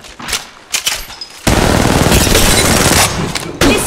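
Automatic weapon fire in Apex Legends Mobile: a few scattered shots at first, then a loud, sustained burst of rapid gunfire that runs to the end, close and dominant.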